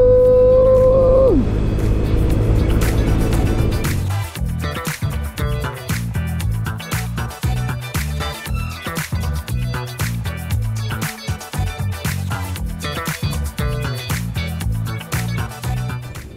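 A Honda Stylo 160 scooter, ABS version, rides along the road; its engine opens up with a rising drone, then a busy, rattling run of road and motor noise follows close to the mic.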